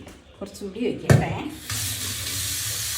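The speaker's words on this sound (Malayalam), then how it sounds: "ഈ ചെമ്പിൽ നമ്മൾ വെള്ളം ഒഴിച്ച്" Water poured into an idli steamer pot, a steady broadband rush starting about halfway through and running to the end, after a few brief louder knocks and bumps at the start.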